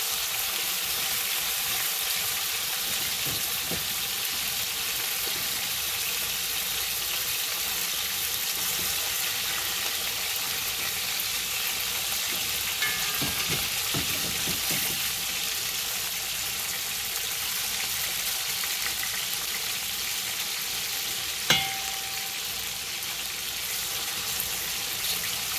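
Oxtail pieces browning in a hot pan for Jamaican-style oxtail, a steady even sizzle and crackle running throughout at moderate loudness, with one brief sharp clink near the end and no talk.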